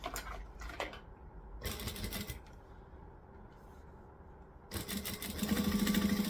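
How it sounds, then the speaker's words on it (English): Sewing machine stitching the edges of a fabric bag, running in short bursts separated by quiet pauses, then a longer, steadier run of close, whirring, rapid stitching at the end. "we're going to stitch around the 3 edges"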